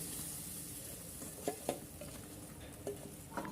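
Blended chickpea dal frying in hot ghee while being stirred for halwa, a steady soft sizzle punctuated by occasional spatula taps and scrapes against the pan.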